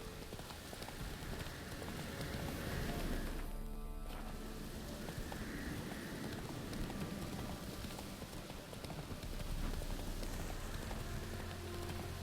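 Geralt's horse Roach from the video game The Witcher 3 trots along with a steady clip-clop of hooves, moderately close, mixed with soft rain-like ambience and a brief mid-clip pause in the rhythm.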